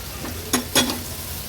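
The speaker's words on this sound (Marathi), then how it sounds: "मसाले परतून झाले की आपण ही वाफवलेली कारली आहेत ना याच्यात ॲड करूया" Steamed bitter gourd goes into a pan of spice masala being fried over medium flame. Two quick bursts of sizzle and stirring stand out over a low, steady background hiss.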